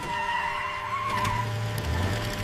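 A car in a rainy-day animated traffic scene skids on a slippery wet road, its tires squealing in a steady, loud screech before it barely stops, with engine rumble underneath.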